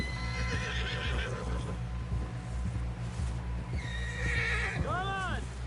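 Red Dead Redemption 2 video game: a horse whinnies loudly with a wavering, descending call near the end, after steady clip-clop of hooves under a low rumble, with voices speaking throughout.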